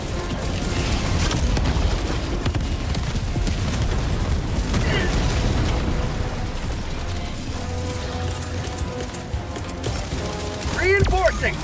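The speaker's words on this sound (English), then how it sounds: "Grenade!" In Helldivers 2 a grenade goes off amid continuous gunfire and booming blasts, a dense, loud low-end barrage that never lets up, with voices calling out over the combat.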